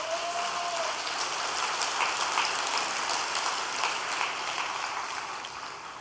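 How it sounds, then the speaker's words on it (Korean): An audience at a Korean religious gathering gives encouraging applause, a dense and steady patter of many hands at moderate distance that eases slightly toward the end. "격려의 박수 부탁드리겠습니다"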